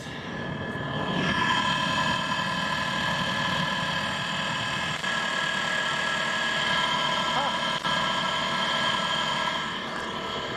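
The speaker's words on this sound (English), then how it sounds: "I think having the propeller on there actually helps a lot with the noise." A boat motor runs with its propeller fitted, a loud, steady engine drone that holds throughout without a break.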